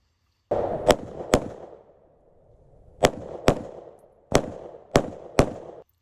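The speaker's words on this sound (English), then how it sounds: "I fire my first shot, my second shot" Sharp pistol shots from a PSA Dagger handgun, seven loud cracks in uneven pairs and clusters over six seconds, each followed by a ringing, echoing decay at a shooting range.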